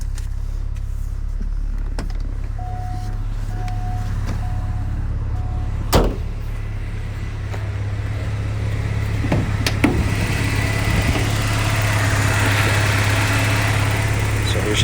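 A 1985.5 Porsche 944 idling smoothly, a steady low engine hum with a couple of sharp clicks or knocks partway through and a faint electronic tone early on.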